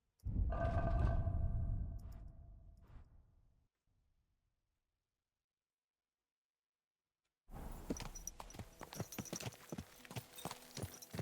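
Horse hooves clip-clopping in the video game Kingdom Come Deliverance 2: a loud burst of sound fades out into silence, then a run of close, steady hoof thuds and clatter sets in.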